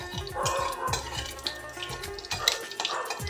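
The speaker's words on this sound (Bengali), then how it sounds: "কাঁচা লঙ্কাগুলো দিয়ে একটু নেড়ে নিতে হবে" Green chillies being stirred in hot oil in a pan, a soft sizzle under repeated scraping and clinking of a utensil against the pan, steady and close with no talking.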